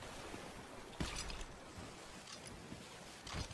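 Ocean waves wash around a moving ship in a pirate-themed video game, a steady broadband surge with a couple of louder swells rising near the start and end.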